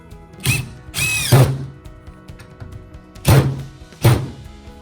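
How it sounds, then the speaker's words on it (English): A power drill whirs in four short bursts pre-drilling wood for screws while framing a chicken coop, two close together, then two more after a pause, with thunks as it bites. "So, we'll pre-drill these and you can put the screws in."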